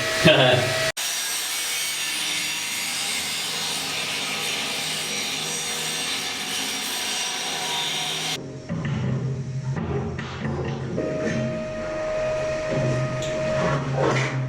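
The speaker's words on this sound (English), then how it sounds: "Anyway, fair bit of grinding now." Metal being ground inside a boat fuel tank, a loud continuous abrasive roar that cuts off abruptly, followed by rougher, hollow scraping and clatter inside the enclosed space.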